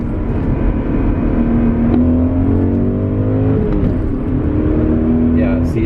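A BMW E39 M5 engine pulls hard under acceleration, its tone climbing, then dips briefly as power cuts during a gear change before rising again, heard from inside the car with a voice talking over it.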